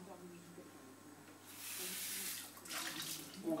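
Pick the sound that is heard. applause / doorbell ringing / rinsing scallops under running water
rinsing scallops under running water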